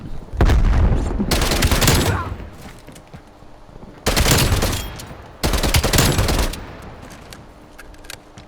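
A TEC9 submachine gun fires in Call of Duty: Black Ops Cold War: three loud, close bursts of rapid shots separated by short pauses.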